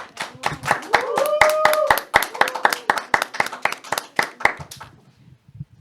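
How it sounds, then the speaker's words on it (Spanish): An audience claps in steady, rhythmic beats at a Spanish-language Christian talk program, with a tonal voice or sustained sound running under the claps early on, before the clapping thins and fades out near the end. "Un fuerte aplauso, por favor."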